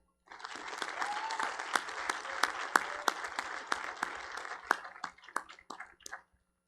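Audience applause at the Cushing Academy commencement ceremony, May 2021: steady, moderate clapping from a seated crowd with a few sharp individual claps standing out, fading out over the last second.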